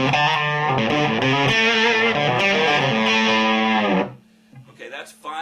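Distorted electric guitar through a Victoria VIC105 amp with treble and volume nearly maxed, loud sustained chords and riffing for about four seconds, then cutting off to quieter scraps of handling noise.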